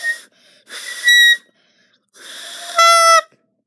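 Saxophone mouthpiece blown hard on its own without the neck, giving two pairs of bursts: a breathy airy onset rising into a piercing, steady squealing tone, close and loud with short silences between.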